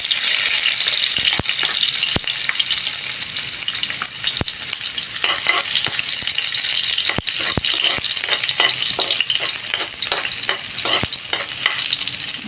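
Garlic sizzles steadily in a hot pan, a loud continuous fry with scattered sharp crackles and spatters running from start to finish and no talking.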